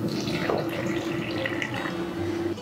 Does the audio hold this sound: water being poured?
yes